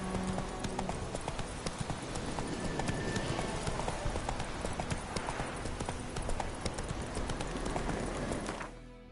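Roach, the horse from The Witcher 3: Wild Hunt, gallops with steady, dense hoofbeats clip-clopping continuously and fairly close, with faint game ambience beneath and no speech, ending abruptly.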